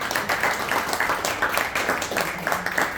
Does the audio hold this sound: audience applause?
yes